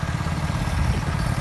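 A tractor engine runs at a steady idle in a village, a continuous low rumble with a faint clattering texture, close and unbroken with no talk.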